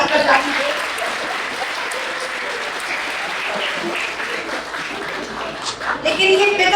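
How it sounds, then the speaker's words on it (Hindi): A room full of people clapping at a talk on gender, power and violence, a steady dense applause lasting several seconds with some voices mixed in. "इनके लिए भी एक ताली बजाइए"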